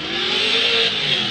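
Drift car engine held under steady throttle while climbing a hill at a Formula Drift Pro2 qualifying event in Atlanta, a loud, sustained high rasping roar close by.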